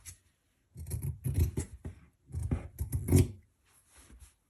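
Scissors snipping through the fabric of an old jacket being remade into a bag, a close, crisp series of short cuts in two quick bursts separated by a brief pause.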